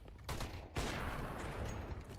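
Gunfire in an esports video game match comes as a rapid spray of automatic shots in dense, sustained bursts, split by a brief pause near the start, loud and continuous.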